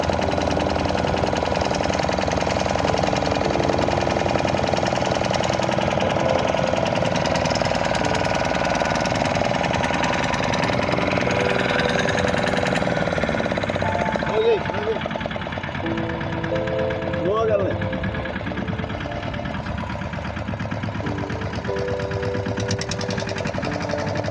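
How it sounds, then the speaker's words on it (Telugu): A motor boat's engine drones steadily as it crosses the flooded, rising Godavari river, a loud continuous mid-pitched hum with knocking undertones that persists throughout, while people's voices come and go over it. "ఇప్పుడు మరలా బోటు మాట్లాడుకొని అవతలకి బోటు ప్రయాణం చేస్తున్నాము"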